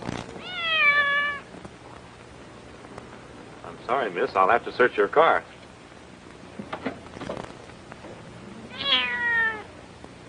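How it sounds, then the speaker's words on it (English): A cat gives two drawn-out meows, one at the start and one near the end, with a person speaking between them. "Kitty, kitty, kitty. Come on, kitty."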